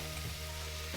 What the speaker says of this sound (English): So just gonna brown up some of the meat and put that in there with a small onion